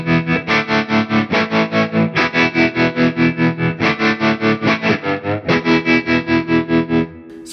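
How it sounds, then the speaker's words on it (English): A Hamstead Artist 60+RT guitar amp with overdrive plays a sustained, pulsing psychedelic rock tone: a steady throbbing chord that repeats in even waves for about seven seconds, then cuts off. "Maybe let's try that with a little bit of overdrive."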